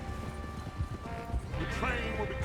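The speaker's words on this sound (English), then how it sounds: "Get that horse in line, Arthur." Horse hooves clip-clop at a steady walking rhythm in Red Dead Redemption 2 on PS5, fairly close, while voices talk over the hoofbeats.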